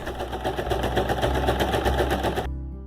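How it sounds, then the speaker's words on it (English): Sewing machine running a zigzag stitch along the raw edges of a fabric tube for a beach bag, a steady close rapid stitching rattle that stops abruptly near the end. "I'm folding the fabric right sides together and sewing it into a tube, securing the raw edges with a zigzag."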